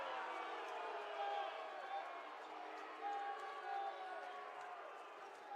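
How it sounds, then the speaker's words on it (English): Home crowd in a high school varsity basketball gym reacting to a foul call on a blocked shot, a steady murmur of voices with scattered shouts and squeaky sneakers, moderately faint and continuous throughout. "Benedictine crowd does not seem happy."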